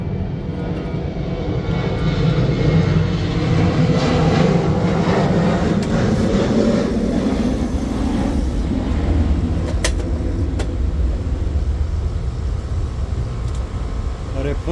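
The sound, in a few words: airplane flying overhead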